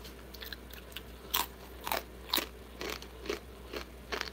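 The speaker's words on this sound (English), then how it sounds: "Chewing them is really loud." Crunchy pita chips are bitten and chewed up close, giving a series of sharp, loud crunches about every half second against a quiet background.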